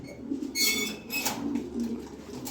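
Pigeons coo softly in low, rolling calls nearby, with a brief flutter of sound in between.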